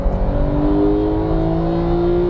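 A Porsche GT3 991 sports car drives a race track, its engine holding a strong, steady, buzzing tone that climbs slightly in pitch under throttle, loud and close as if heard from the cabin.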